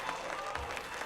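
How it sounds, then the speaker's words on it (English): Brief crowd applause in the Korean TV drama The Glory, a dense steady patter of many hands clapping at moderate volume with no voices over it. "And the crowd goes wild."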